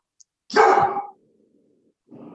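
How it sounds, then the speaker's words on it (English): A single loud, close dog bark, followed by a low fainter growl or whimper trailing off, with another brief soft vocal noise starting near the end. "The dog says otherwise."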